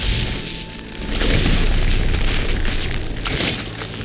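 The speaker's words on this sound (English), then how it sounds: "An explosion?" A deep booming explosion rumbles through a scene in the video game Horizon Forbidden West, a heavy low roar that swells after the first second and lingers with crackling debris, loud and alone with no talk.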